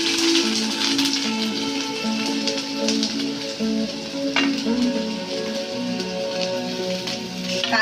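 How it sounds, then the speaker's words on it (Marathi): Chopped onion and garlic sizzle in about two spoons of oil over a medium flame, a dense close crackle with clinking stir sounds and small pops, no talking over it. "मी लसूण टाकते आता मी कांदा टाकते त्याच्यामध्ये"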